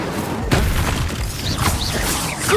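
Incendio fire spell cast in the video game Hogwarts Legacy: a sudden booming whoosh of flame with crackling bursts and magical swirling tones, loud and close, rumbling on for a couple of seconds.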